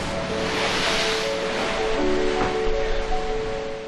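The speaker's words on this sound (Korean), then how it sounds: "빠른 유속과 거친 파도의 위력은 우리의 상상 그 이상이다." Rough ocean surf pounds against rocky shore in fast tidal currents, a steady, loud roar of crashing water and spray with wind noise and no voices.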